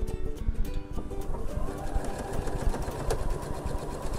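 A sewing machine stitches strips of fabric for a log cabin bed runner, running in a steady, close, rapid mechanical rhythm with faint birds cooing in the background.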